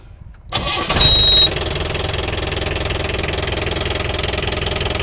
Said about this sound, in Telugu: ఇంజన్ స్టార్ట్ చేద్దాం ఎట్లా ఉంటుందో చూద్దామా ఒకసారి వినండి బండి ఇంజిన్